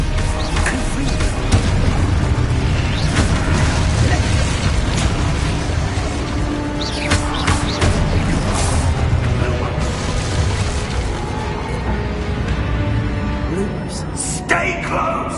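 Spell blasts from Expulso and Confringo in the 2023 Harry Potter video game, heard as a dense run of booming explosions and bursts layered over continuous game action, loud and close throughout, with a few sharper pops near the end.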